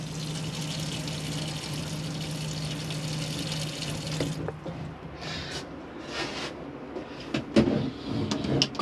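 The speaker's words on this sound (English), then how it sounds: "Got your tap, just showing that it's very hot, so your hot water's working there" Hot water tap running in an Auto Sleeper Suffolk motorhome, with its water pump on: a steady rush of flowing water for several seconds, then the flow stops and quiet clunks and knocks follow.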